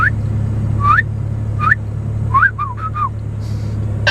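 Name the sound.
person whistling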